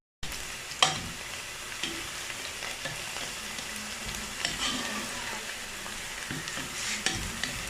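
Onions fry in hot oil for Ghana jollof rice, a steady close crackling sizzle with occasional utensil scrapes and clicks as they are stirred.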